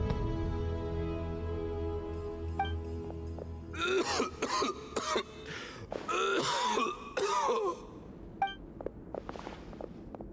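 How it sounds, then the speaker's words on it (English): A series of harsh, raspy coughs and throat clearing in several bursts over a soft musical drone, with occasional light pings, from a character in Genshin Impact. "Why is he coughing so much?"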